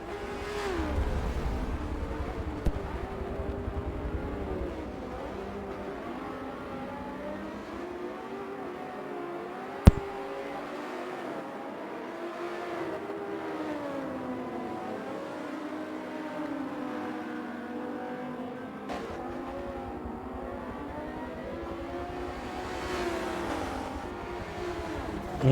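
Several GT race cars in a racing video game drone around the track, with engines rising and falling through gear changes at a steady moderate level and a couple of sharp clicks.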